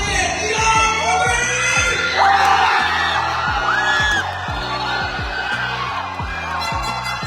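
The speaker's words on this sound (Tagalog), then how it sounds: "grabe nga ang hiyawan ng mga tao dito" Spectators at a basketball game in Kamloops shout, whoop and cheer loudly while sharp sneaker squeaks and a rhythmic beat of arena music pulse underneath.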